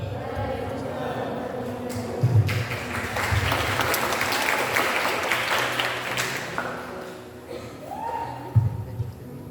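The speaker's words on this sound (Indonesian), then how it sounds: "Tepuk tangan buat kita semua ya." Audience applause at a student association event, a steady wash of clapping from a crowd that swells and then fades, with a few brief voices and sounds rising above it.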